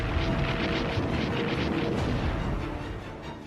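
A World War II naval artillery and rocket bombardment of Okinawa rolls on as a heavy, continuous rumbling barrage of overlapping booms, loud and unbroken, fading slightly at the end.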